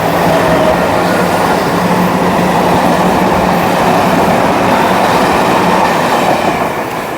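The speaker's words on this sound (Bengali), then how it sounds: "তো এই যে ট্রেনটা চলে গেল," A train rolls past a railway level crossing, a loud, close, continuous rumble and clatter of wheels on rails that holds steady throughout.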